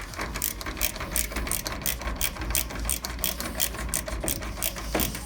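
A drill fitted with a right-angle adapter drives screws into plasterboard, giving a fast, steady mechanical ratcheting chatter with rapid repeated clicks, close and continuous over a low hum.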